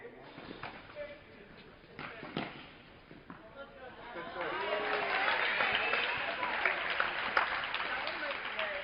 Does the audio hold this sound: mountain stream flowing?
no